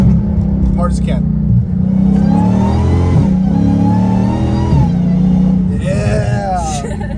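A Dodge Hellcat Redeye with 800 horsepower revs loudly up close, its engine note climbing, then dropping sharply on the downshifts before surging again under hard acceleration, with voices inside the car.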